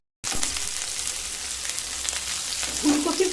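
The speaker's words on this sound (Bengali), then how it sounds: "এবার ফুলকপিগুলোকে ভেজে নেব।" Cauliflower florets frying in a pan for a Bengali cauliflower kalia, a steady loud sizzle that starts suddenly and runs unbroken, with faint scrapes of stirring near the end.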